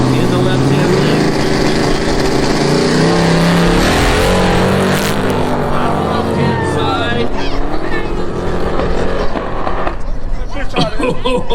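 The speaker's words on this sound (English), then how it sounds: "A Porsche 944 in the right-hand lane, the 340 in the left-hand lane." Race cars roar at Capital City Raceway as a Porsche 944 and a 340 line up side by side, loud engine drone and revving close by, with voices talking over the noise throughout.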